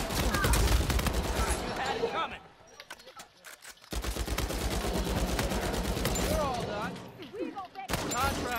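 Rapid gunfire bursts and fusillades from an Uncharted 4 multiplayer ranked match, loud and dense, breaking briefly mid-clip before resuming, with players' voices chattering over the shooting.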